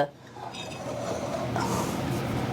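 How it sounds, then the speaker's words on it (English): Gingerbread dough ingredients, butter, sugar, egg, flour and nutmeg, are stirred in a mixing bowl, with a soft steady scraping and a few faint clinks of a utensil against the bowl. "I'm going to mix that up just a little bit"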